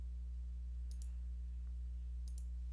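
A few sharp computer mouse clicks, spaced apart, while right-clicking a project in the Eclipse editor, heard close over a steady low electrical hum.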